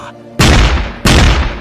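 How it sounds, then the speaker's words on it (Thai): Two loud, close gunshots ring out in a forest, dramatized as an effect, each a sharp blast followed by a booming echo that decays before the next shot. "เสียงปืนดังลั่นสนั่นป่า"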